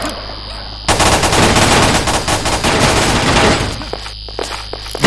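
Rapid, stuttering gunfire from the online shooter Paperman blasts in a loud continuous burst for a few seconds, glitched and oddly fast, then cuts out, leaving a few scattered shots and quieter game ambience.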